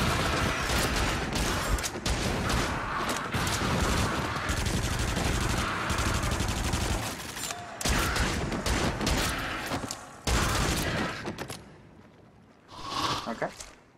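Repeated shots from a basic gun in the VR shooter Until Dawn: Rush of Blood, dense bursts of gunfire with mechanical clatter over game noise, a player talking throughout, fading near the end before a final burst.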